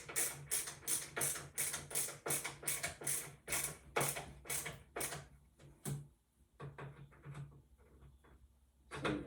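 A screwdriver tightens screws on wobbly loose furniture, giving a rapid series of rhythmic ratcheting clicks and creaks up close, then slower scattered turns and handling noises.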